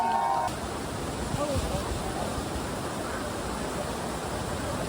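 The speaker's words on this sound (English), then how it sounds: "going in the waterfall" A mountain waterfall in Theth, in the Albanian mountains, gives a steady, broad rushing roar that fills the whole stretch without pause.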